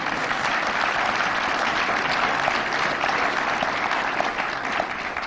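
A crowd at a Nullify Now political rally applauds a speech in a sustained, dense wash of clapping that stays loud and even throughout.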